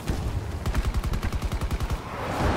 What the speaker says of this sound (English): everybody's shooting at him